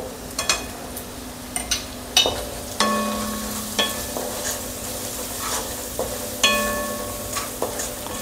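Softened onions with turmeric and salt are stirred in a pan for a potato bhaji, with a low sizzle underneath and repeated sharp metallic clinks and scrapes of the spoon against the pan, close and clear.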